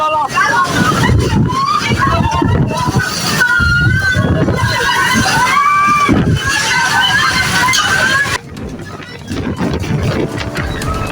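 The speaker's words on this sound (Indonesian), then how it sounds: "Angin puting beliung disertai hujan deras menerjang Desa Watu Payungan, Kecamatan Kesesi, Kabupaten Pekalongan," Tornado winds with heavy rain strike a village in Pekalongan, Central Java: loud, roaring gusts and sloshing water buffet the microphone continuously, with voices shouting over the storm.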